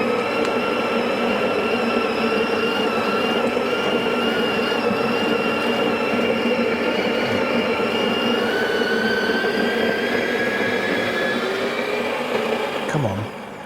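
A bean-to-cup coffee machine grinds beans inside a van, giving a steady, loud whirring whine with shifting tones for about thirteen seconds before winding down at the end.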